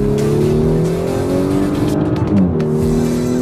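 An Audi S5 Coupe accelerates hard close by, its engine revving in loud rising tones that sweep through gear changes.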